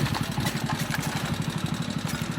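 A motorbike engine idles steadily close by, giving a fast even putter with a regular pulse and no voices.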